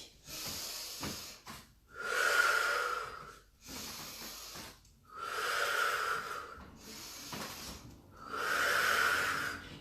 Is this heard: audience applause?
no